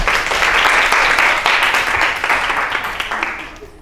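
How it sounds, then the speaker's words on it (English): A classroom group claps for a student, dense close applause that starts loud and gradually thins and fades toward the end. "Can you please clap your hands for her?"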